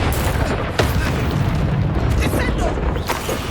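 Confringo spell explosion in the Hogwarts Legacy video game: a loud, sustained booming blast with dense rumbling low end that carries through the whole stretch, briefly dipping and surging again.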